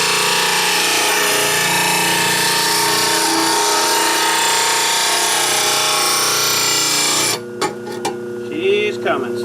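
A power tool grinds the bevel of a blade for sharpening, a loud, steady abrasive whine that runs for about seven seconds and then cuts off, leaving faint clatter and quiet handling sounds.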